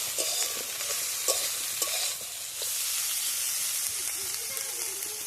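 Potatoes frying in a pan and being stirred, with a steady close sizzle and hiss broken by scraping strokes of a utensil, no talk.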